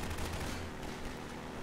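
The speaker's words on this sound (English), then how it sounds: "Oh, they're shooting at me." Enemies in Half-Life 2 shoot at the player in a steady, dense stream of gunfire. It is loud and continuous throughout, with no pause.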